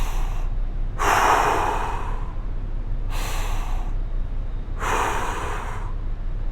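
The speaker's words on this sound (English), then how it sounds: "still breathing through the belly, really forcing that belly in or that belly out with every breath in" Slow, deep belly breaths drawn in through the nose and pushed out through the mouth, four airy breath sounds in an even rhythm, close and clear over a low steady hum.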